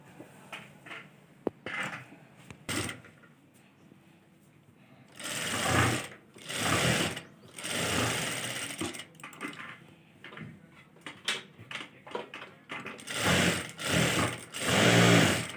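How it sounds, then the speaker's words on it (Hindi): Sewing machine stitching the inner lining at the neckline of a boat-neck kurti, running in close, steady bursts of rapid whirring with short stops between them. "अब हम डायरेक्टली इनर पे सिलाई करेंगे"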